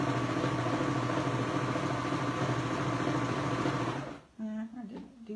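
A serger sewing machine stitches quilt fabric, a fast steady mechanical whir for about four seconds that stops abruptly, followed by a voice talking.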